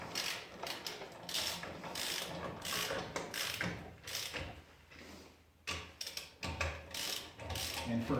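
Hand ratchet clicking in repeated quick bursts while snugging wheel lug nuts on a Ram 1500, close and fairly quiet with short pauses between strokes.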